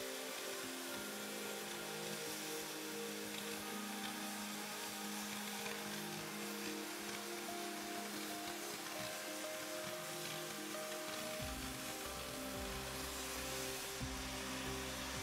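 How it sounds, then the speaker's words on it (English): A StarCut oxyfuel hand cutting torch cuts a workpiece with a continuous loud roaring hiss, steady throughout, with a deeper rumbling shift in tone toward the end and no voices. "Cut your workpiece by operating the cutting oxygen lever."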